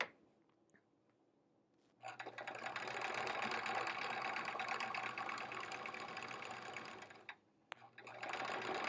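A sewing machine quilting fabric blocks runs in a steady, loud, fast whir for about five seconds after a quiet start. It stops briefly, then starts again.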